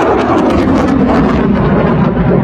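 An Iranian Shahed 136 kamikaze drone in flight during an attack on Odesa, a loud, steady droning engine buzz that fills the whole stretch without any voices.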